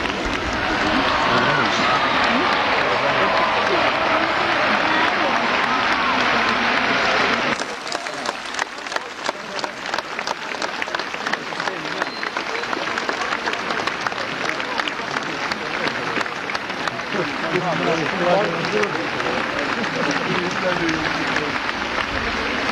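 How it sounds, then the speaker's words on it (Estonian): An audience applauds the arrival of a choir, first as a dense, roaring wash of sound, then as steady, loud clapping from a large crowd that continues to the end. "sellele aplausile, millega te tervitasite meie laulkaare saabumist"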